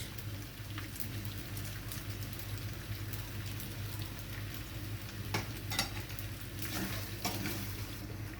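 Boiled pasta being stirred together with mayonnaise in a pan over a gas flame, a steady soft scraping and wet mixing under a constant low hum, with a few sharper clicks of the spoon toward the end.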